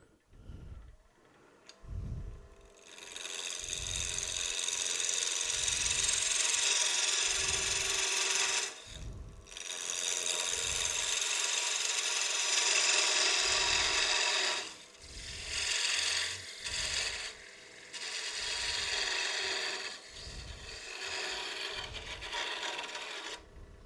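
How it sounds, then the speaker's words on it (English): A wooden lidded box workpiece being parted off on a lathe, with a loud continuous grinding, ratcheting cut broken by brief pauses and a regular low thumping underneath, and no speech. "Now that we have it down the size, we'll go ahead and part that off"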